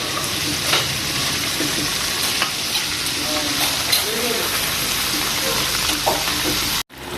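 French fries deep-frying in hot oil make a steady, loud crackling sizzle that runs unbroken for several seconds and cuts out abruptly near the end.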